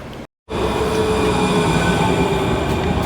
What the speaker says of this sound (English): the tram already arrived in the distance.